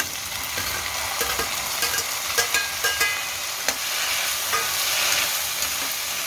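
Washed cowpea pods tumble into a pan of fried onion and sizzle steadily, with a scatter of clicks and scrapes from stirring across the hiss; no one speaks.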